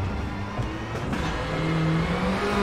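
A rally car on a snow stage in WRC 8 roars along with its engine revving hard, rising in pitch through acceleration, with brief surface scrabble over a continuous, close engine drone.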